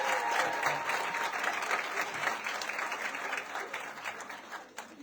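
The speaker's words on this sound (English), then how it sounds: "please give a round of applause to all of the award winners in this category" Audience applause for award winners at an awards ceremony, a steady dense wash of many hands clapping that holds for about five seconds and thins slightly toward the end.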